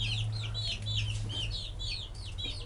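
Japanese silkie chickens with five toes cluck in a repeated, rhythmic series of short calls, close and clear over a steady low hum, with no one speaking.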